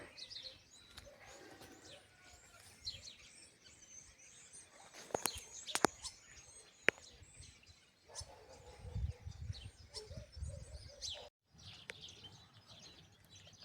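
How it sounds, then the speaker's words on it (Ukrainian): Scattered bird chirps and calls sound among the branches of a cherry tree outdoors, with occasional louder sharp notes and a soft background hum. "А Мішель виловлює птахів."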